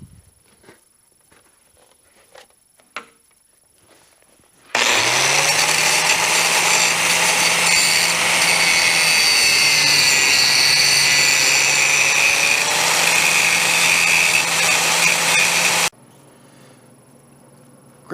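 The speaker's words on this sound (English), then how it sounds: "Just gonna go ahead and grind out that inside now." A power grinder grinds out a fresh weld on a bush hog blade, a loud, steady, harsh metallic whine that holds for about eleven seconds between quiet stretches.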